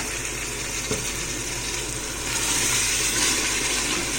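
Water poured into a hot cooking pot of spinach and chicken curry, producing a loud, steady sizzle and hiss that swells partway through, close and continuous with no talk.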